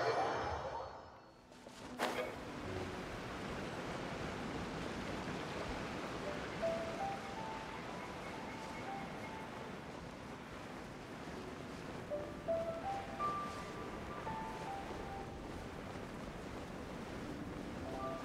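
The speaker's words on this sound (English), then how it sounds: "Apparently wrong waterfall" Steady broadband rush of a waterfall in Genshin Impact, a continuous even roar of falling water with a brief dip near the start and faint tonal game sounds drifting over it.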